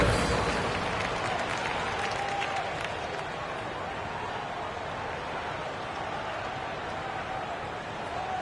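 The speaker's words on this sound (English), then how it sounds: "One more round of applause for your performers." A crowd applauding at a G League basketball game in an indoor arena, a dense, steady wash of clapping and crowd noise that starts loud and settles slightly lower over several seconds.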